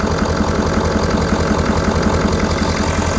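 A 2019 Ford F250 with a 6.7L diesel engine runs at a steady idle, a loud, rhythmic low knocking rumble mixed with air intake whoosh, close and continuous with no talk.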